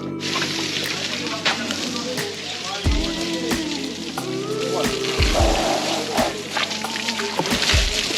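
An Indian elephant gets showered with water, steady splashing and spattering hiss running throughout with a few low thumps, fairly close, while people talk nearby.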